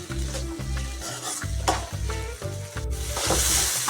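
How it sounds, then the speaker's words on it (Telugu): Kurma is stirred as it fries in a pan: rhythmic, resonant scraping strokes repeat over a steady sizzle, and the hiss swells louder toward the end. "ఈ కుర్మా ఇప్పుడు వన్ టైం కలుపుతున్నాను"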